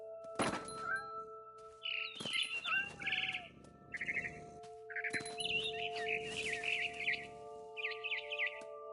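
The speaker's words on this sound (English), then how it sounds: "Then I heard chirping outside my window. It was a barn swallow going back to her nest." A barn swallow chirps and twitters in the video game What Remains of Edith Finch, bursts of quick high chirps at an irregular pace over a sustained musical tone, with a sharp thunk at the start.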